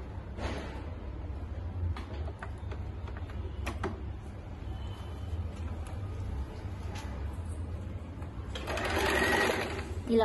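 A sewing machine running a zigzag stitch along a saree edge, steady mechanical whirring and clicking throughout, close and moderately loud, with someone speaking over it.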